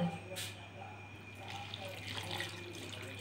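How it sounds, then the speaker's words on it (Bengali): Water poured into a bowl of mustard-oil vegetable mix for a bati chochchori, a short gushing splash at the start followed by softer trickling over a low steady hum. "এবার দিয়ে দেবো জল"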